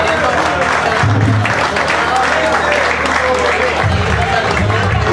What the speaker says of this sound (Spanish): un aplauso para el tío